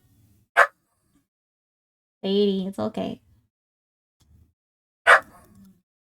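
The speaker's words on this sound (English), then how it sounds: "That is my dog" A dog gives two short, sharp barks several seconds apart, and someone speaks briefly between them in an otherwise quiet indoor room.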